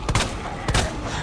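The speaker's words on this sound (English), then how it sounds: "Rule number one, shoot these undead bastards in the head." Gunfire aimed at zombies in Resident Evil 2 comes as two loud, sharp shots roughly half a second apart, each with a short ringing tail over a low game rumble.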